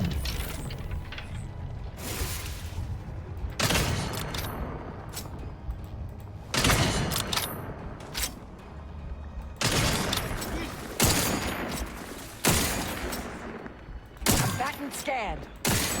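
Video game gunfire on a hard difficulty setting: bursts of weapon shots and mechanical clanks hit in repeated loud clusters, with a voice talking over the action.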